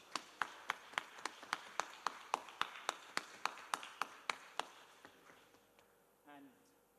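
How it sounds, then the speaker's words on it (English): Quiz contest audience clapping in slow, even unison, about twenty sharp claps at a steady beat that stop near the end, followed by a brief sound at the close. "Please let the applause continue."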